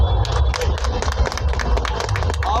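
An audience at a Nagpur commemoration of Dr. Babasaheb Ambedkar breaks into loud, dense clapping, a brisk rapid patter of many hands close by with crowd noise beneath.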